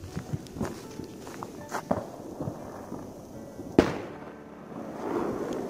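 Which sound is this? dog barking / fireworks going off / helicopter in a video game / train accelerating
fireworks going off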